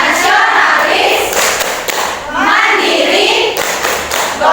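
A group claps in rhythmic bursts for the Tepuk PPK chant, loud and close, with the sharp hand claps clustered in patterned phrases and pauses between them.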